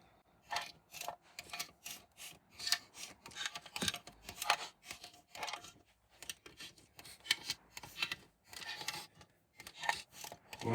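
Metal bolts being fitted and tightened onto the oil pan of a 1992 Subaru Sambar engine during a rebuild, heard as a close series of short scraping, clicking ratchet-like strokes in quick irregular bursts, with no talking.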